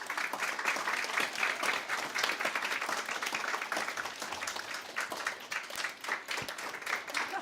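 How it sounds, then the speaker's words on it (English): Sustained applause from a church congregation, dense and steady clapping that continues throughout without a break. "let's give them all a round of applause"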